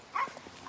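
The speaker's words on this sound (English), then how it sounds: "Why is that dog on the roof?" A dog barks once, short and fairly close, in a scene from the Disney Channel movie Don't Look Under the Bed where a dog is up on a roof.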